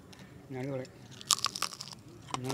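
Crisp bites into homemade cheese-loaded veg nachos, with several sharp crunches and chewing close to the mic, alongside a short burst of talk.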